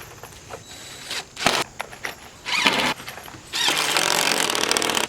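A cordless power driver sinking screws into the wooden floor boards of a chicken coop, several whirring bursts of varying length, ending in one long, loud drive, close by with no talking.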